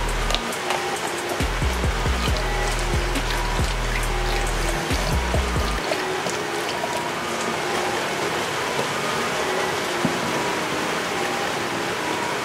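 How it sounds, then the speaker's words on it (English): Full cream milk is poured into a blender with banana for a protein shake, producing a continuous close splashing gurgle with a low glugging pulse in the first half that then thins to a steady trickle. "Now I'm gonna add some milk"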